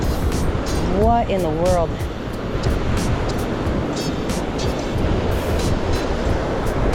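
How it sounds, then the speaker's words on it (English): Ocean surf rolls steadily onto a Pass-a-Grille beach in Florida at sunset after Hurricane Idalia, a continuous close wash of breaking waves with wind, while a person briefly speaks over it. "Look at the waves, though. That's crazy."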